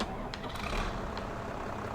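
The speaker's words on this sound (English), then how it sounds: "Alright, I'm just going to take the other tractor." A tractor engine idles with a steady low rumble in the Farming Simulator 22 game, joined by a few faint high clicks or beeps and a voice talking.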